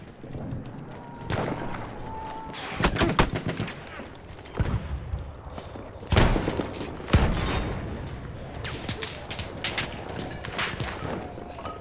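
Field gun in Battlefield 1 firing amid a chaotic battlefield, with several loud booming shots around 3, 6 and 7 seconds over constant gunfire and explosion noise.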